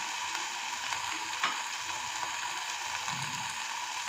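Diced potatoes frying in oil for semolina upma, a steady soft sizzle and crackle throughout with a brief utensil tap near the middle and light stirring scrapes toward the end.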